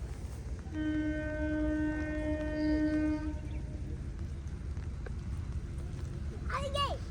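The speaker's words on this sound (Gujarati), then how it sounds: "અને ફ્રેન્ડ્સ અત્યારે ટ્રેન પણ આવી ગયેલી છે." A 110-year-old narrow gauge train arrives, sounding a long steady horn over the low rumble of the rolling cars, followed by a brief squeal; voices talk faintly nearby.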